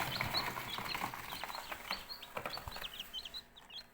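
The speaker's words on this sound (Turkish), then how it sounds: "Gördüğünüz gibi civcivlerim çıktı." Many newly hatched chicks from an incubator peep continuously in high, overlapping chirps, close by and lively, with faint rustling underneath.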